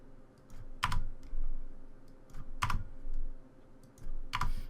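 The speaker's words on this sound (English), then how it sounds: "you type in your router password" Keystrokes on a computer keyboard entering a router password, soft scattered taps with a few sharper clustered presses, close and moderately quiet over a faint steady hum, no speech.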